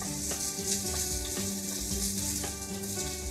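Onion and butternut squash frying in a hot pan while being stirred, a steady close sizzle broken by a few soft scraping knocks of the spoon.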